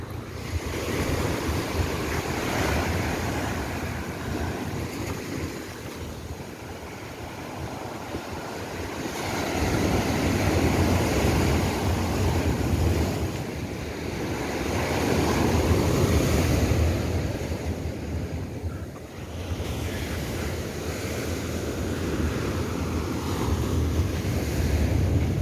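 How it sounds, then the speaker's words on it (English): Ocean waves at Kalim Beach in Phuket, Thailand wash in steady surging swells, a broad continuous roar with wind buffeting the microphone and no voices. "Oh, look at the waves."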